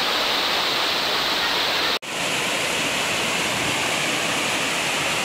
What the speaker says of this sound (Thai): นี่นะบรรยากาศของน้ำตกนะครับ